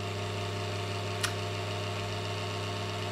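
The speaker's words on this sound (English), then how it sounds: "the fan on the motherboard is also spinning. It's making noise because there's some dust in that fan." A computer motherboard fan clogged with dust spins steadily, giving a constant low whirring hum with a single faint click partway through.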